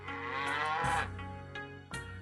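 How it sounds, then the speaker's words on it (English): Cattle in The Journeyman Project 3 video game give two loud, close moos, a long drawn-out call followed by a shorter one, with no talk over them. "Look at those cows."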